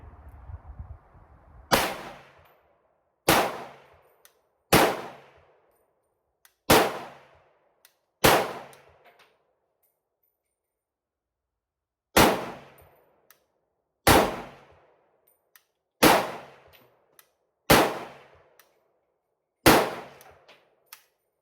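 Ten single gunshots from a Century Arms VSKA rifle firing X-Force ammunition at a target 50 yards away, sharp loud cracks spaced about one to two seconds apart with a pause midway, each trailing off in a short echo.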